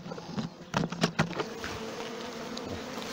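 Honeybees leaving a newly opened hive entrance, a soft steady buzzing of many bees circling close by with a few brief louder passes near the start.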